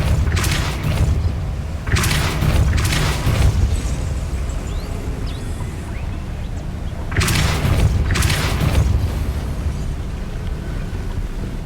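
Repeated Depulso force spells cast in Hogwarts Legacy on Xbox Series S, each a loud booming burst with a sharp whooshing crack, coming in quick pairs and clusters over a steady low rumble, with no talking.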